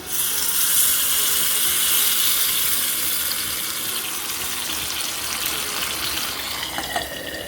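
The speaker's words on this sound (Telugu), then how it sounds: "ఇందులోనే తగినన్ని నీళ్లు కుక్కర్లో వేసుకొని పోసుకుంటున్నాను" Water pours into a pressure cooker holding lentils and fried onions for mango dal, a steady gushing stream that continues for several seconds without speech.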